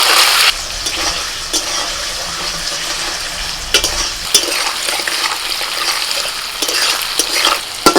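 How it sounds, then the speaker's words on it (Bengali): Paneer fries lightly in hot white oil in a kadai, with a close, steady sizzle and a few spatula scrapes and knocks against the pan. "তেল গরম হয়ে গেছে প্রথমে আমি পনিরটাকে একটু হালকা করে ভেজে নেব"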